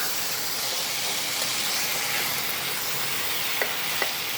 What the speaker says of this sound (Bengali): এই মাটনটাকে খুব ভালো করে মশলার সঙ্গে কষিয়ে নিতে হবে।